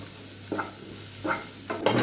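Onions fry with cumin in a pan under a steady low sizzle, broken by three or four scraping stirs up close, with no voices.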